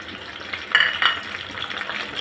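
Ginger garlic paste fries in a pan with a soft, close sizzle and a couple of light stirring clinks from a utensil.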